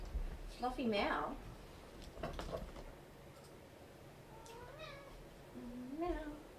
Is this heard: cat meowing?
yes